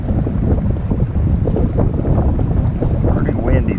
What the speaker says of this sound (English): Pretty windy this morning.